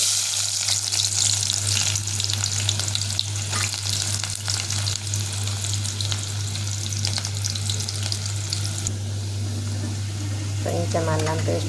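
Two onions frying in a generous amount of oil with green chillies for a curry, giving a steady close sizzle throughout, with occasional stirring clatter and a faint voice near the end.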